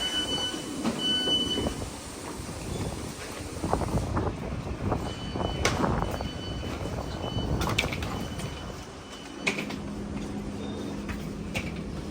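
A train rumbles steadily with rattling carriage noise and occasional higher squeals and clanks, heard from inside, no speech.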